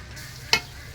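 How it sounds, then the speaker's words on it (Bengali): Ginger and garlic fry in a pan with a soft, steady sizzle, broken by one brief sharp spatter or stir clink near the middle. "একটু ভালো করে ভাজে নেব আদা রসুনটা"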